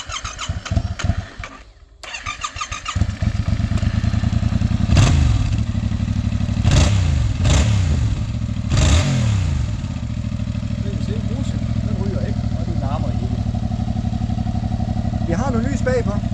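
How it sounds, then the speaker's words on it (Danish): A motorcycle at a Danish driving-test check is started with a clattering crank, catches, and idles steadily up close, with several short throttle blips rising and falling before it settles back to a rough idle. "Så hvis nu starter vi den lige og prøver at give den lidt gas."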